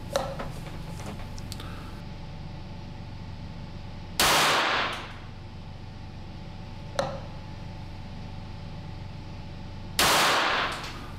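Rifle shots fired with Eley Standard budget bulk rimfire ammunition: two sharp, loud reports about six seconds apart, each with a short decaying tail, plus a few faint clicks in between over steady background hum.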